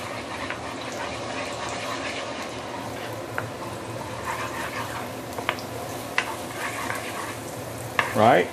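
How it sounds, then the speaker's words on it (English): Ginger and garlic sautéing in about two tablespoons of oil under a running kitchen hood make a steady low sizzle, broken by a few sharp utensil clicks and a louder stirring scrape near the end. "We're going to start with sauteing the ginger and also garlic."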